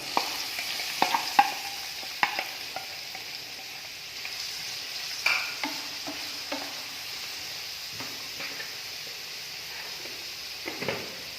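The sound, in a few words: chopped onions frying in hot oil in a pan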